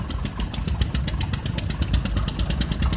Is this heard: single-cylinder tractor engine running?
yes